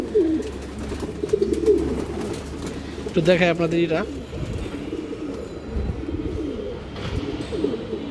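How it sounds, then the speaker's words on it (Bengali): Breeder pigeons of a local patterned type coo in a loft, a steady low rolling cooing running throughout with a louder, clearer burst of calls midway, while someone talks over them. "কিছু বিডার কবুতর আছে নর্মাদি পাটকাটা কবুতর"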